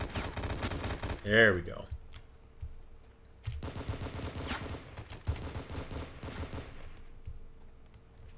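Gunfire in the shooter game War Inc: bursts of rapid automatic fire crackle close and loud, with a short pause between volleys, and someone talks briefly over the shooting.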